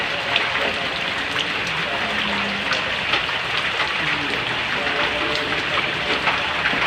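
Rain falls steadily in a constant hiss with scattered drips, while people talk over it throughout.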